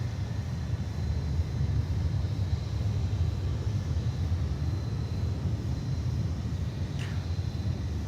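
An American Airlines Boeing 737-800 departing DFW airport, a steady low jet rumble that holds evenly throughout at moderate distance, with no voices.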